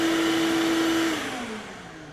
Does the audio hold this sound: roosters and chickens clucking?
no